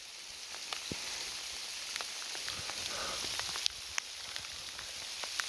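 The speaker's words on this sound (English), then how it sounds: "And we got a hailstorm." Hail falls outdoors during a land survey near a creek draw: a continuous soft hiss broken by scattered sharp ticks and clicks as stones strike nearby surfaces.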